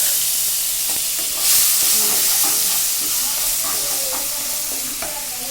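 Spices fry loudly in plenty of oil for potol korma, a dense steady sizzle with stirring and scraping clatter throughout, surging briefly early on.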